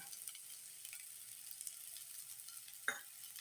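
Diced vegetables with pepper powder, garam masala and chilli powder sauté in a pan for fried rice, giving a faint, steady sizzle with one soft stirring knock near the end.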